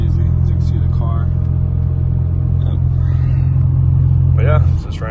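BMW G20 sedan cruising on a road late at night, a steady low engine and road rumble filling the cabin throughout, with a voice talking over it and the drone dropping off near the end.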